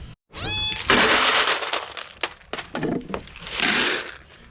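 A farm cat meows at feeding time, one clear close meow followed by scuffling, cracking and rustling noises, with a second drawn-out cry near the end.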